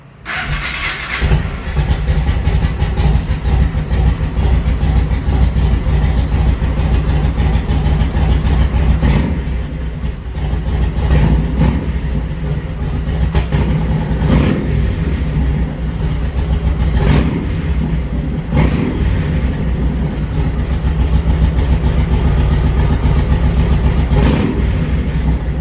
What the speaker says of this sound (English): go ahead and start the bike up